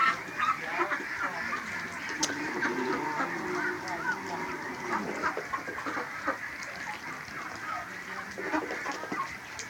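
Muscovy ducks quack and chatter repeatedly nearby, overlapping calls over a steady outdoor background.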